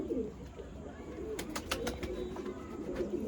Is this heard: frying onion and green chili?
no